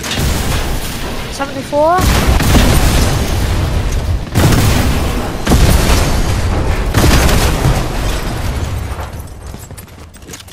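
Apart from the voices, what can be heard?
explosions destroying a gas station in a video game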